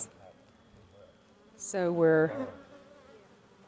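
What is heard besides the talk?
honey bees buzzing in an opened hive box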